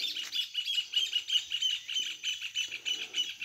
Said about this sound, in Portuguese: Passarinho para todo lado.